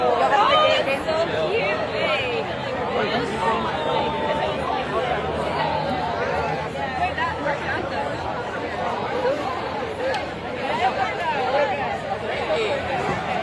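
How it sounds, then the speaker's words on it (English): A crowd at a circumcision protest in Pennsylvania chatters and calls out, a dense, lively babble of many voices that stays steady and close without pause. "this is the most remarkable crowd reaction we've yet seen on this tour"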